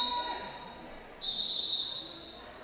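A referee's whistle blows a long steady blast to stop the clock at a roller derby game, sounding loud and clear after a faint earlier tweet over crowd murmur in the arena.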